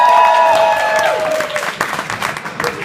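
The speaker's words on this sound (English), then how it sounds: "Give him a round of applause." Dinner-event audience clapping after a mind-reading magic trick, starting under ringing tones and a voice, then swelling into scattered, lively applause with some cheering.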